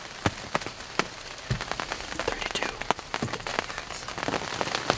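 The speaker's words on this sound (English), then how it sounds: "The rain shower turned into a downpour" Heavy rain pours down steadily, a dense hiss scattered with sharp, close drips and splatters hitting a surface.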